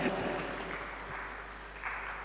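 An audience at an entrepreneurship talk show claps in a steady, faint wash of applause over low background hum, with no clear voice on top.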